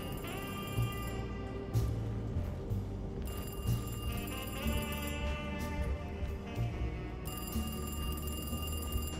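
Telephone ringing in the horror video game Alone in the Dark, repeated bursts of bright electronic ringing separated by short pauses, layered over a dark droning ambient score, with no speech.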